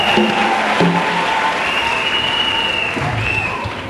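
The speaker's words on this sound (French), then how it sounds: "Acclame pour Jésus" A church congregation bursts into sustained applause in acclamation for Jesus, a dense, loud clapping that fills the room, with some voices calling out over it.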